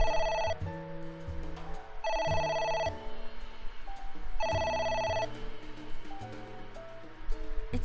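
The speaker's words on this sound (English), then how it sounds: "It won't stop ringing." A telephone ringing in the video game AI The Somnium Files, with three electronic rings in a repeating pattern and quieter game sounds underneath.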